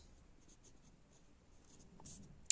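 Faint scratching of a marker or chalk on a board as a median calculation is written out, soft intermittent strokes with low background hiss.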